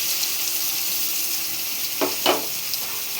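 Onions frying in a little oil give a steady, fairly faint sizzle throughout, with two brief louder stirring scrapes near the end and no talking.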